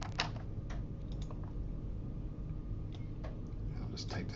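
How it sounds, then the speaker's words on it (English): Quiet keystrokes tap out a short burst of typing on a computer keyboard, soft irregular clicks under low background noise and faint murmured speech. "I'll just type this in."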